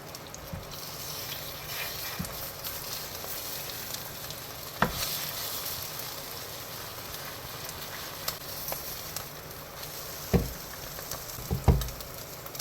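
Breakfast food frying in a non-stick skillet, a steady close sizzle with occasional scrapes and clicks of a utensil.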